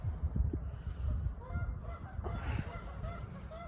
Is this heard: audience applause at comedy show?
no